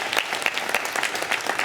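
Steady, dense applause from a live studio audience at a library event in Mississauga, Ontario, closing a televised panel discussion: continuous close clapping with no talk.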